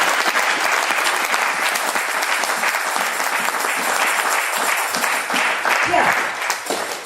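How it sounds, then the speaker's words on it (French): Steady applause from a church congregation during a gospel service fills the room, close and sustained throughout, with scattered voices mixed into the clapping. "On peut encore acclamer, on peut."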